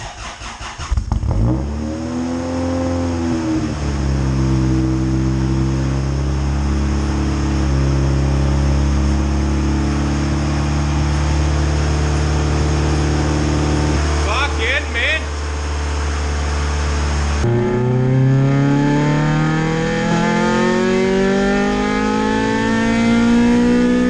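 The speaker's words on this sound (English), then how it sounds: "First cold start on E85." A Honda CRX engine running on E85 fuel cold-starts with a quick crank and catches, then settles into a loud, close idle with rising and falling revs and a brief blip. Its pitch shifts again near the end.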